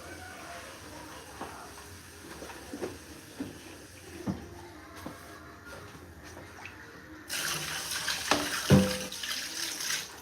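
Water poured from a tap into a cooking pot holding washed stockfish and other ingredients for Nigerian okra and ogbono soup. A soft running stream with light clinks gives way to a louder, fuller gush partway through, recorded close up.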